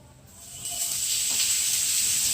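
Prawns hit a hot, smoking frying pan with oil, setting off a sudden loud sizzle that rises and holds as a steady, close hiss.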